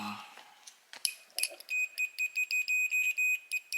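A continuity checker gives a rapid run of short, clear electronic beeps, repeating steadily after a few faint handling clicks, close and alone.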